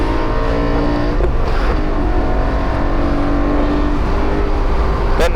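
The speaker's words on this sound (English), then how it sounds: "hear that throttle when you're in the middle of the shift there" BMW E92 M3 on track at Barber Motorsports Park, stock clutch, engine revving loud and steady through a gear shift with a brief throttle blip mid-shift, continuous close in-car drone throughout.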